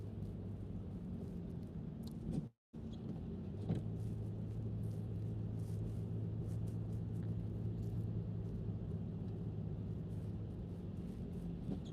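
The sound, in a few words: car driving steadily on a road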